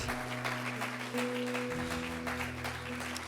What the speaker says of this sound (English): Let's give another round of applause to our LA Family Church band.